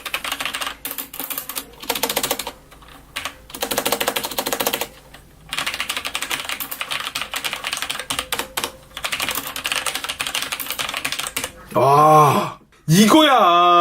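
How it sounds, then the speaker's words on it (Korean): Typing on a Corsair STRAFE mechanical keyboard with Cherry MX Red switches, quiet and fast clattering keystrokes in bursts with brief pauses, close up, ending with a short vocal sound. "자, 일단 한번 타건을 한번 해보도록 하겠습니다"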